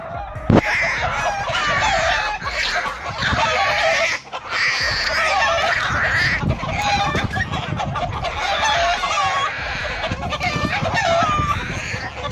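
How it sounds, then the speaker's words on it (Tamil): A mother hen fights off a hawk that came after her chicks, with loud, agitated clucking and squawking running almost continuously, dense and close, and a brief dip partway through. "தன்னோட குஞ்சுகளை வேட்டையாட வந்த ஒரு பருந்த இந்த தாய் கோழி எப்படி துரத்தி துரத்தி அடி வெளுக்குதுன்னு பாருங்க"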